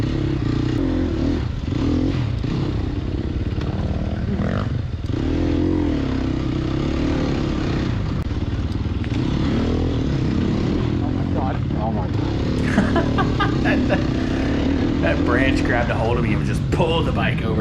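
Sherco 300 SEF off-road motorcycle on a Goertz Country race course, its engine droning loudly and continuously with rough revving and clatter throughout.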